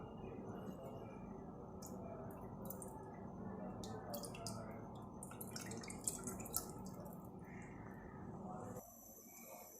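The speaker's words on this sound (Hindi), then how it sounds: "ऑरेंज जूस को मैंने छान लिया है, इसमें इसका बिल्कुल भी गूदा मौजूद नहीं है। इसको हम एक पैन में ट्रांसफ़र कर देते हैं।" Strained orange juice, free of pulp, poured into a pan at home for marmalade, giving a steady soft trickling and splashing flow that stops near the end, with faint clinks.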